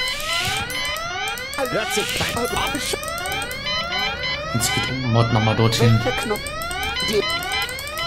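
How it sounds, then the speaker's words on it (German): An alarm in the video game Goodbye Deponia sounds as a repeated rising, sweeping siren tone running throughout, heard under a voice speaking. "Jetzt macht er noch mal den Alarm an."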